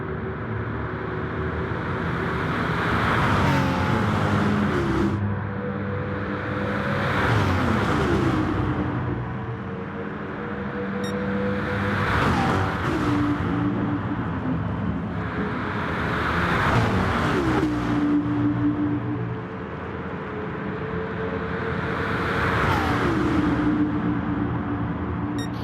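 Race car engines in the Gran Turismo video game roar past in repeated waves, each rising to a loud whining peak and then falling away, about five passes spaced several seconds apart, with no talking.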